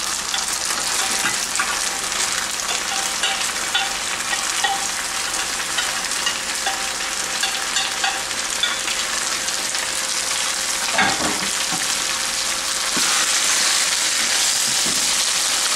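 Pork and vegetables fry and get stirred in a pan for a Chinese-style pork with bean sprouts dish, a steady close sizzle with scraping stir strokes throughout, brightening near the end.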